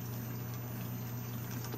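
Water flows and bubbles steadily in a saltwater aquarium, a constant faint wash with a low pump-like hum and no other sounds.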